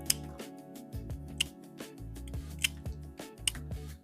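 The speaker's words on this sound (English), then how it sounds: "I'm just cutting off the sharp end" Scissors snip sharp corners off small mosaic pieces, a series of crisp cuts over a steady tonal hum of background music.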